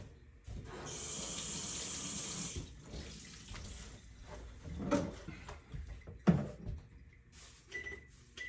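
A kitchen tap gushes for about two seconds as a small key lime is rinsed for a steamed fish and shrimp dish, followed by quieter clinks, handling and soft knocks at a sink.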